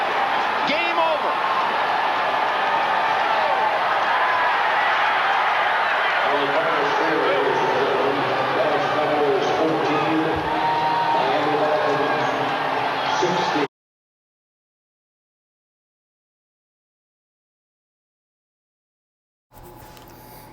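Crowd cheering and roaring at a football stadium as the Dolphins win a Thanksgiving game against the Cowboys, a dense loud wash of voices for about thirteen seconds, then silence, then a brief return of noise.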